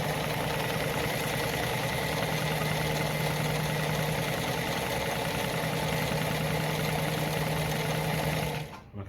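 A Lada model 233 sewing machine stitches through fabric at a short stitch length, its motor whirring in a steady, continuous mechanical hum for about nine seconds before stopping abruptly, with no talking.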